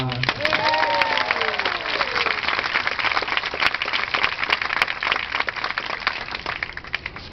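Audience applause greets Daphné's entrance at a live show, a dense, steady wash of clapping lasting throughout, with a few whistles or cheers rising early on.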